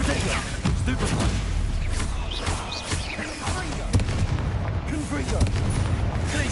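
Spell blasts from a Bombarda explosion during Hogwarts Legacy combat: dense, rumbling booms and crackling debris that run continuously for several seconds, with battle noise layered throughout.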